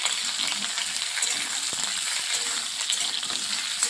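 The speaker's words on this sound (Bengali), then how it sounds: "এখন আমি এখানে সবজিটাকে একটু ভেজে নিচ্ছি।" Potato, eggplant and mixed vegetables with green chilli frying in oil in a pan, a continuous close sizzle with soft stirring noises and a brief clink.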